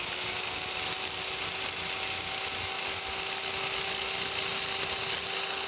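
An electric power scraper works the dovetail ways of a metal planer's clapper box cross slide, giving a loud, steady high buzzing drone with a constant tone that runs unbroken throughout and has no voices over it.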